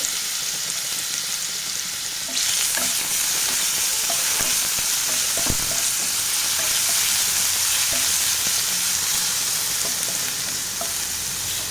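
Crushed ginger and garlic frying in hot sunflower oil, a loud steady sizzle that flares up after a couple of seconds, with a few light stirring knocks against the pan and no talking.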